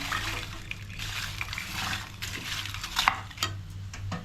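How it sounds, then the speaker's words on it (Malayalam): Papadam pieces stirred into fried masala in a pan for papadam mezhukupurati, giving steady scraping and rustling over a faint sizzle, with a few sharper spoon clinks near the end. "നമുക്ക് ഇതിനകത്തോട്ട് പപ്പടം ഇടാം ഇട്ട് മിക്സ് ചെയ്തെടുക്കാം"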